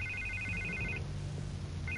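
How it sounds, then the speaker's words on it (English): A telephone rings in the Batman Telltale Series video game, a repeated electronic trill with two bursts separated by a pause, heard over a low ambient hum. "I can't get the phone to stop ringing."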